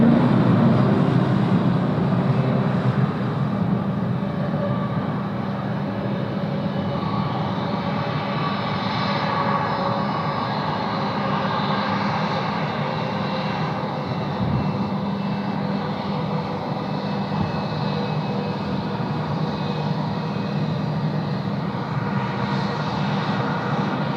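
An Airbus A321 jet taxis northbound along an airport taxiway, its engines a steady, loud broadband roar with a low rumble that holds evenly throughout, with no voices.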